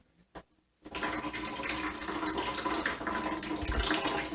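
Filtered water from a countertop water filter pours steadily into a cup with a continuous splashing trickle, coming in after a brief pause and a small clunk and then running without a break.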